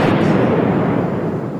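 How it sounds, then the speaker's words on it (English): A bomb detonating in the overhead compartment of an airliner cruising at 37,000 feet over the Andaman Sea, heard as a loud, dense, sustained blast roar that fills the whole clip without fading. "the bomb detonated."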